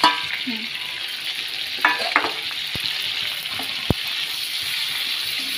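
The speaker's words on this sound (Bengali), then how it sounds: "দিয়ে দাও, অনেকটা পাস্তা আছে। নাড়তে থাকো।" A large batch of pasta in a watery gravy is stirred in a frying pan, giving a steady soft sizzle with occasional scraping clicks of the spoon against the pan.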